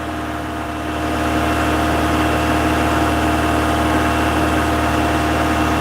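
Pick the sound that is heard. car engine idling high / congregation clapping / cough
car engine idling high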